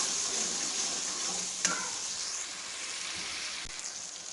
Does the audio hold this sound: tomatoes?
yes